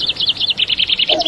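Small bird chirping in a quick, even series of about a dozen bright, close tweets, loud and alone over faint background hiss.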